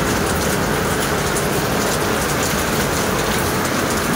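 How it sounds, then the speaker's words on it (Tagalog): Heavy typhoon rain pours down in a loud, continuous, dense hiss of drops striking surfaces nearby, steady throughout with no break. "diba, maulan."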